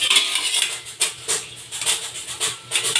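A metal lid set onto a cooking pot holding long beans with a little baking soda, producing a series of close, bright clinks and rattles with no talking.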